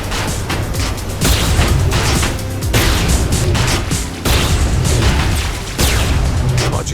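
Loud, dense bursts of explosions and booming blasts from tanks being shot in Saints Row IV Re-Elected, several heavy impacts in quick succession over continuous rumbling game noise.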